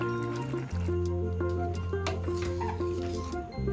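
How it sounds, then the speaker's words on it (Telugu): Water pours into a curry of raw coconut and moong dal for cooking. A brief liquid fill and trickle sounds up close over a steady hum in the background. "కొంచెం నీళ్లు పోసుకొని ఉడికించుకోవటం అండి"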